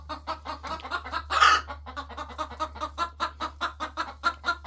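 Backyard hens cluck in a steady, rhythmic series of close, chatty calls, with one louder squawk early on and a constant low hum underneath.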